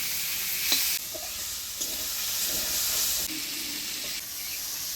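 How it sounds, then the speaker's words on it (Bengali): Eggplant fries with gima leaf paste in a pan, a steady close sizzle with scraping stirs and short bursts of steam hiss. "বেগুনটা ভালো করে ভাজা ভাজা করে নিলাম, এবার দিয়ে দিব গিমা বাটা। ভালো করে নাড়াচাড়া করে নেব।"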